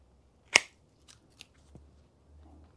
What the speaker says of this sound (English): Trim off that little node right there.